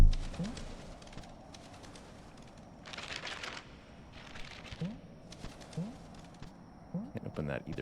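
In the video game Animal Well, a bird coos softly in short repeated calls, about one every second, over a quiet game ambience with bursts of noise and a voice talking at times.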